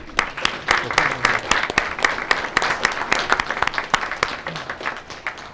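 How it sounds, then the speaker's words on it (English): Audience at a commission meeting gives a round of applause, dense clapping with many distinct sharp claps, close and fairly loud, tapering slightly toward the end. "I think we need to give them a round of applause."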